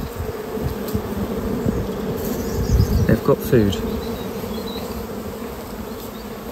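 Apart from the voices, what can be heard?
honeybees buzzing around open hive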